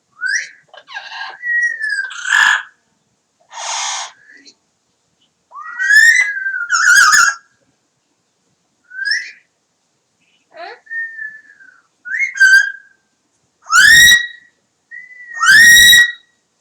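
A 28-year-old Amazon parrot whistles close by, loud, clear tonal notes and short rising and falling phrases separated by silent gaps.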